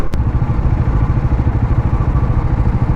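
A TVS Apache RR 310 motorcycle's engine runs steadily and loud throughout, a continuous low throbbing rumble with a brief sharp click near the start and no speech.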